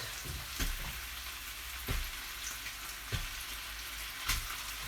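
Sausages and pork sizzling in a cassoulet pan, a steady soft frying hiss with a few sharper pops and stirring knocks spaced about every second or so, close and fairly quiet.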